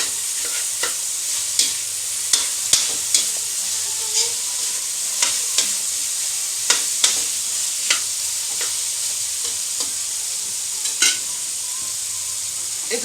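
Chicken and vegetables cook in an uncovered pot with a steady hiss and sizzle, broken by light scraping knocks of stirring every second or so, close and alone.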